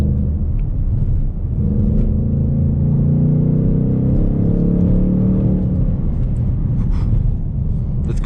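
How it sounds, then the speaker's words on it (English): A 2019 Ford Mustang Bullitt V8 drives on the Nürburgring, its engine a loud, continuous rumbling drone heard from inside the cabin, swelling and climbing in the middle as it revs hard through a long gear. "This car really likes to rev too"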